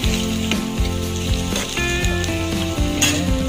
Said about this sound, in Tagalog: lagay na natin yung ating sweet potato. Lutuin lang natin itong maigi.